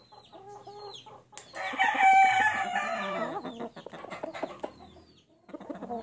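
A gamecock brood rooster crows once, close and clear, in the middle of the clip, with clucking and other fowl calls before and after it.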